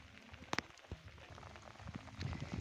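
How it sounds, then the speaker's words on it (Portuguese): Rain patters steadily on a surface during a downpour in Brazil's Northeast, a soft, continuous hiss of drops heard up close with a few sharper taps and no talking. "tá chovendo muito aqui no celular"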